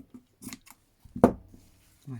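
Scissors cutting fabric for a Tilda doll, a few quiet snips with one sharp louder cut in the middle, close and alone.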